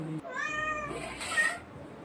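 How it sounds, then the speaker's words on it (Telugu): A house cat meows in a home kitchen while fish curry cooks, giving one clear, rising meow and then a shorter, sharper cry, with a voice talking nearby. "మా పిల్లి అరుస్తుంది"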